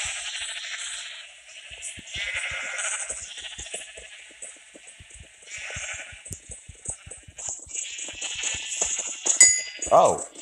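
Game sheep bleat repeatedly in a Minecraft minigame, the bleats recurring through the clip at moderate loudness with a bright chime near the end.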